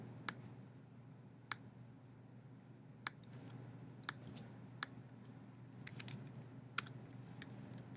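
Sparse, separate keystrokes on a computer keyboard click quietly over a steady low room hum, with irregular gaps between presses and no talking.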